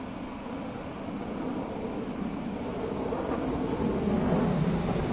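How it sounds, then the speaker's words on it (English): A plane passes overhead while a train runs between Littlehampton and London Victoria. A steady broadband roar builds slowly, and there is no speech. "There's a plane."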